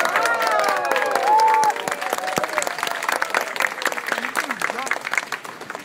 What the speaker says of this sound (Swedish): En stor applåd för er.